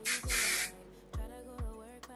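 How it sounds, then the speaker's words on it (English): Short hairspray bursts aimed at hair from a distance while curling with a GHD Max styler: a long hissing spray, then two brief puffs, close and fairly loud, with no talking. "I'm gonna spray quite far"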